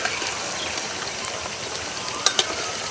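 Potato and cauliflower singaras fry gently in oil over low heat, giving a soft, steady bubbling hiss with a couple of brief sharper pops near the end, fairly quiet and without speech.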